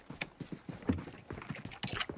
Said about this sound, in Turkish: Ayak sesi duyuyorum.